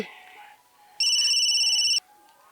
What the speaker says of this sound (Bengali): আপনার শালিকা তিথি ফোন করেছে, একটু দেখি।